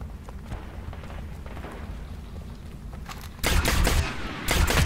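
Enemy gunfire in Destiny on Xbox One, a faint rattle of shots that suddenly bursts into loud, dense automatic fire near the end, briefly breaking off before resuming, with no speech.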